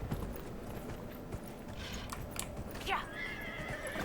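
A horse in the game Dragon Age Inquisition gives a brief whinny near the end, following soft hoof clip-clops, with quiet voices and game sounds in the background.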